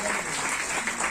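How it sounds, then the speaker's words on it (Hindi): Dense, steady audience applause fills a retirement ceremony at a government education directorate office in Bhopal, with a voice faintly audible beneath the clapping throughout. "तालियां भी बजी है।"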